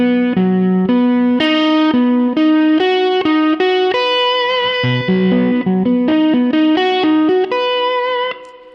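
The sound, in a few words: slide guitar picking exercise, thumb index middle across strings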